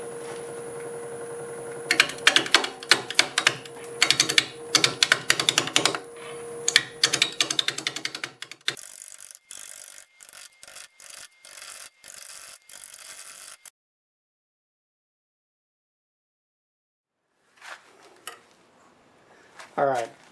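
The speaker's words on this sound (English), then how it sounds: "Start with a 5/8 sweat back bowl gouge." A 5/8 swept-back bowl gouge cuts into a camellia stump spinning on a wood lathe at about 650 RPM, giving loud, ragged bursts of scraping and chattering. The cutting breaks into short clicks, falls silent, then returns faintly near the end.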